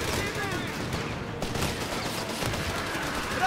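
Dense, continuous gunfire and explosions from a Company of Heroes 3 World War II battle with Afrikakorps forces, loud and relentless throughout with shouted unit callouts mixed in.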